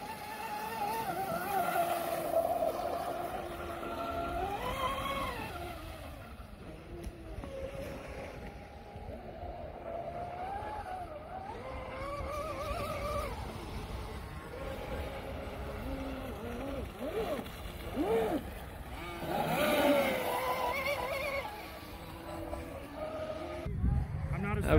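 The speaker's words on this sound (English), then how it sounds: "We've got a couple of boats out here tonight that'll do about 50 miles an hour." Racing motorboats doing about 50 miles an hour at an evening regatta, their engines whining and rising and falling in pitch as they pass, moderately distant, with people talking over them.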